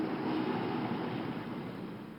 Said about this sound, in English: Type in flush, and it should be TR4 water flushes.